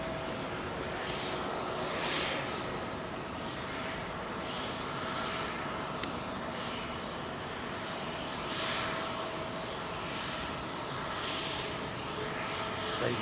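An Avro Lancaster taking off from Heathrow makes a steady, fairly distant engine drone with gentle swells in level, heard alone with no talking.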